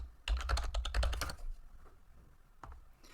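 Keys on a computer keyboard are typed in a quick burst of about a dozen clicks, then a pause and a couple more taps, close and fairly quiet, with no speech.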